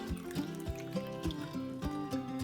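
Water being poured onto biryani rice, two cups to one cup of ready-to-cook biryani rice, a steady close trickle and splash running throughout, alone without speech.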